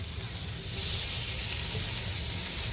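Pork steaks sizzle and fry steadily in a hot skillet, a loud, dense hiss that holds constant throughout with no talking.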